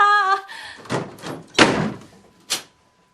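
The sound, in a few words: door being shut and locked, audiobook sound effect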